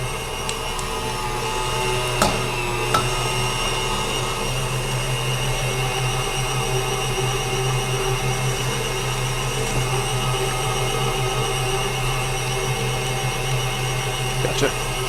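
Electric meat grinder running steadily as it grinds fatty sausage meat, a constant loud motor whir with a few faint clicks and knocks, no voices over it.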